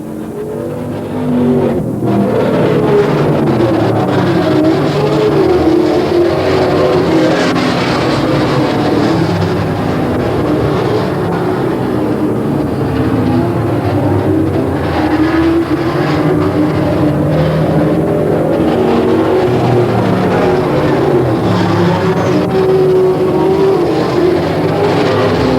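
Race cars roaring around Willamette Speedway, a dense, steady engine drone running loud and continuous at the track with no break in the noise.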